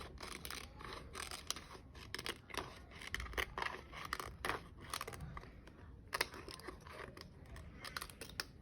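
Paper is trimmed with scissors in a rapid run of close, crisp snips and rustles, the blades biting repeatedly with short gaps between cuts.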